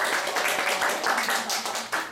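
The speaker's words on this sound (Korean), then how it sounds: "박수" A group in a church gathering claps together after a scripture recitation, a dense, fairly loud patter of hand claps with slight swells, lasting about two seconds.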